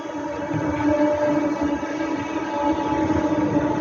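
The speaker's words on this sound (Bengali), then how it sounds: "দেখেছো ট্রেনের আওয়াজ পাওয়া যাচ্ছে" A through train passes near a house, heard as a steady, loud rumble and rolling clatter that holds evenly for the whole stretch, with a sustained tonal hum on top and no voices.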